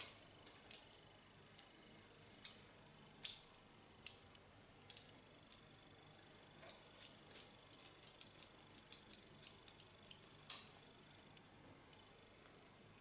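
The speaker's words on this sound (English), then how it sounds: "When I have a lot of hair between my scissor blades, I can also slice cut." Scissors slice-cutting hair for a soft layered asymmetric bob: a series of soft, close, crisp snipping clicks, sparse at first and then in quicker irregular runs, over a quiet room.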